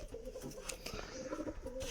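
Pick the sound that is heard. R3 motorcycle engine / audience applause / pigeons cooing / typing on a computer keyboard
pigeons cooing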